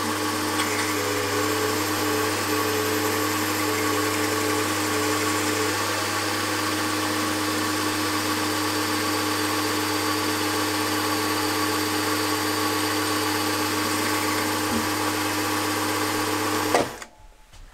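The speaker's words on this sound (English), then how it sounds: "now I'm going to ream it to 5/16." A steady, loud machine drone from a lathe reaming a 5/16 hole in a steel two-throw crank for a small opposed-twin engine, running evenly without a break before cutting off abruptly at the end.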